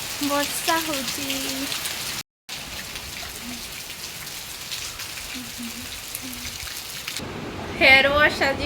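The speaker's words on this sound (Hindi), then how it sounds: "वर्षा होची" Steady rain falls on a surface as a continuous hiss, with brief tonal voice-like sounds over it early on and a short break in the middle.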